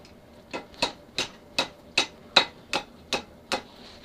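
A blacksmith hammers a metal edge with nine evenly spaced, sharp ringing blows, moderately close, with no talking.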